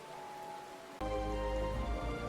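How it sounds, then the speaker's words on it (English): Rain falling in the video game Final Fantasy XIV, a steady hiss of rainfall over a faint musical hum, swelling to a louder, denser wash after a second. "It's raining, everybody."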